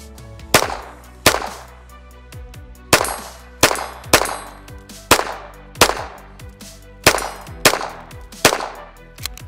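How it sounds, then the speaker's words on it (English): A Walther P22 .22 pistol fires eleven sharp shots, loud and close, with some rapid pairs and short pauses between groups, each crack leaving a brief ringing tail. "Here's my Walther P22. Tiny little gun, but fun to shoot."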